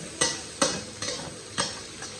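Pork being stir-fried in a pan for vegetable fried rice: five rhythmic spatula scrapes and tosses at roughly half-second intervals over a low, faint sizzle, close up and with no voices.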